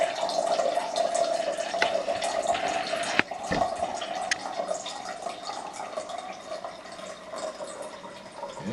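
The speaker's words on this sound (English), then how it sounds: "Let's put the water in now and see what happens." Water poured from a container into a glass holding a layer of oil, a steady gurgling fill with splashy ringing tones and a few sharp clinks against the glass.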